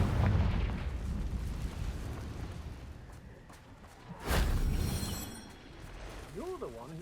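Confringo blasting spell from a wizard video game, a sudden booming burst about two-thirds through amid rumbling ambience, followed by a rising magical whoosh-like tone near the end.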